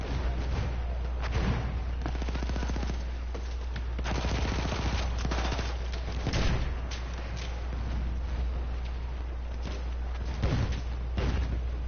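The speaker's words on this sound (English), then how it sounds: "the rate of fire on this trench gun is insane" Rapid bursts of trench gun fire in the Battlefield 1 video game, loud repeated shots in clusters with booming explosions and battle noise continuing throughout.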